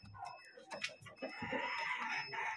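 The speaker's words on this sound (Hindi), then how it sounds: "कितना एक्टिव देख सकते हो ना चिक्स।" Fancy chickens and chicks at a poultry farm in Kolkata give out busy, close-up high chirps and clucks in quick bursts, with a faint voice in the background.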